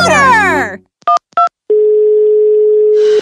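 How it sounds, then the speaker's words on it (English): A telephone dial tone heard while placing a call: a burst of cartoonish voice-like sound, two short beeps, then a steady, loud continuous tone before another noise cuts in at the end. "We could just call Motor!"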